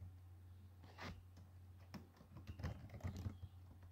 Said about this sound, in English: I'm just simply typing it.